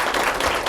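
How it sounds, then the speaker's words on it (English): Audience at a Buddhist dharma talk applauding to welcome a venerable speaker, a brief burst of steady, fairly loud clapping from a crowd. "Please join me as we respectfully welcome Venerable Xingding with a gracious heart and a big round of applause."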